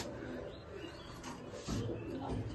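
Pigeons in a Bengali pigeon keeper's home coo softly in low, rolling murmurs, fairly faint and close, with a fuller burst of cooing partway through and no clear talk.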